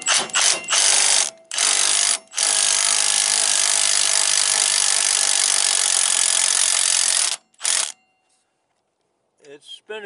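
A stubby power tool zips a nut off the front shock of a 2003 two-wheel-drive Ford Ranger, short bursts and then a long steady loud whir, followed by quiet and brief talk.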